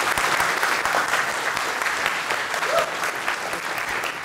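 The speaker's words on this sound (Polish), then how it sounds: "Myślę, że brawa dla nich" The crowd at a Java user group's 200th anniversary meetup breaks into steady, fairly quiet applause that lasts a few seconds without pause.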